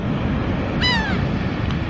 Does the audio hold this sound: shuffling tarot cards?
no